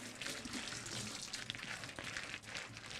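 Faint sloshing and swishing of a little water and dish soap being shaken around inside a closed container, a steady wet churning with irregular splashy bursts throughout.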